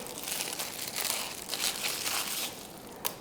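Plastic covering is pulled off a new Toro Recycler Max mower with a 163cc engine, loud close crinkling and crumpling that swells and fades, ending in a sharp crackle.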